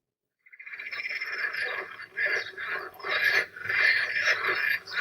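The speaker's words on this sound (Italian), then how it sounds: "Ascoltiamo ancora il verso della rana." A tree frog calls in the woods, a steady run of rapid chirping trills in pulsed bursts that starts abruptly and carries on loud and close, with no voices over it.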